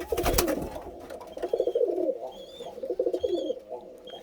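Birmingham Roller pigeons coo in soft, repeated throaty phrases, close by and clear, with a few brief higher chirps from other birds and no talking.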